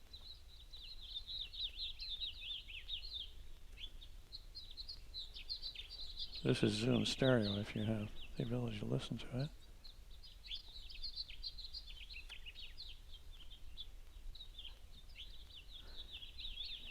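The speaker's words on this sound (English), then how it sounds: "we can go a little further to where the birds are active" Outdoor field recording on a Zoom stereo recorder catches continuous high bird chirps and song throughout, with someone briefly speaking partway through.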